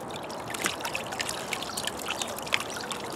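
Water sloshes and trickles in a gold pan as a concentrate sample of fine gold is swirled, a close, continuous splashing with small irregular splashes and no speech.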